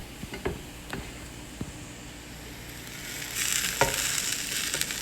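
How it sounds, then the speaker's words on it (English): Sautéed okra goes into a simmering seafood and sausage gumbo pot: a few clunks, then the frying sizzle swells louder and denser as the okra hits the pot and is stirred. "My okra over here is pretty good and sauteed, so I'm just going to dump this right into the pot."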